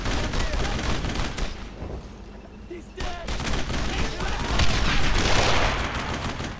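Heavy suppressing gunfire in the WWII shooter Brothers in Arms, rapid bursts of rifle and machine-gun fire layered with booms and dense battle noise throughout, with voices shouting over it.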